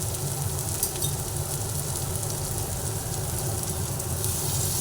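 Ginger hisses and sizzles steadily in hot oil in a frying pan while lentil dal with winter vegetables is cooked, a close, continuous crackling fry with no talk.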